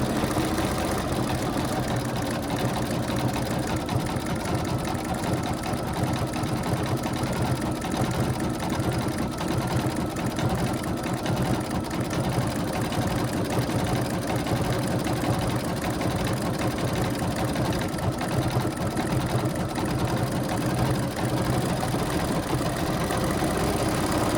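Sewing machine running steadily through thick layers of a fabric gnome, a continuous dense mechanical whir with no breaks.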